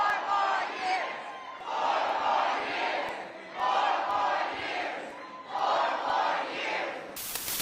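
A crowd at a post-debate Biden rally chants "four more years" in loud, rhythmic waves, four chant bursts with short dips between them, ending in a sudden burst of noise.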